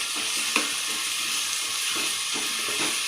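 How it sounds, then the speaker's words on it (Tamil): Tomato and about four green chillies sautéing in a pan for a prawn curry, giving a steady soft sizzle with a few faint stirring scrapes, close and alone. "இது நல்லா வதங்கட்டும்"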